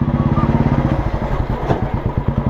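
Motorcycles from a World AIDS Day bike rally in the Andaman Islands throb close by with a steady, rapid engine pulse, loud and continuous without any talk.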